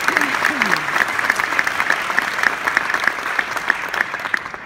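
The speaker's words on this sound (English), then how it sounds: "a little round of applause for our intrepid sewers" Live audience applause at a sewing show event, brisk crowd clapping with a few sharp individual claps, while a person speaks briefly at the start.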